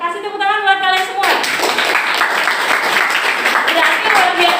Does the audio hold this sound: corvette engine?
no